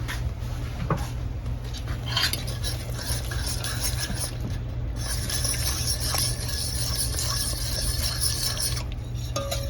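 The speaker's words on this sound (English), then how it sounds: "I don't know what I was thinking stirring this with a fork when I have two whisks." A fork stirs an au gratin potato mixture in a bowl in a home kitchen, soft repeated wet scraping and light clinks up close over a steady low hum, with no talking.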